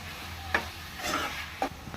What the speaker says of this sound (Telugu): ఇప్పుడు ఒక్క 2 మినిట్స్ దీన్ని కూడా అలా వేయించుకుందాం